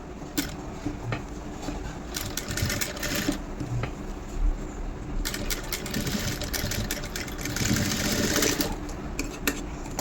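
Sewing machine running steadily while stitching the hook-and-eye strip of a blouse, a continuous close mechanical whir with short pauses and bursts of faster stitching, no voices.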